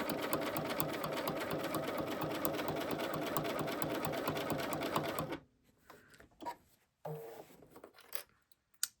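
A sewing machine with an edge stitch foot runs steadily, stitching faux flange binding on a quilt, then stops abruptly partway through, leaving a few quiet fabric handling sounds and brief clicks.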